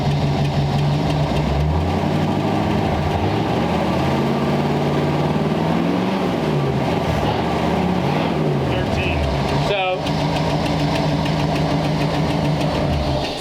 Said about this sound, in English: I'll rev it up a little bit, because it's a generator, you got to get the RPMs up